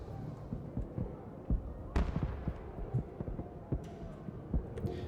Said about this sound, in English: Is that the army shooting at pigs?